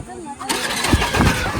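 A motorbike engine is started after a brief quiet moment, catching with a sudden burst and settling into a rough, close, rumbling run with a couple of revving pulses.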